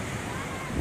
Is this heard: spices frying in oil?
no